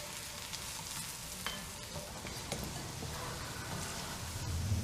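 Chopped onion frying with a pinch of salt in a large pan of hot fat, a steady close sizzle with a few soft stirring clicks throughout.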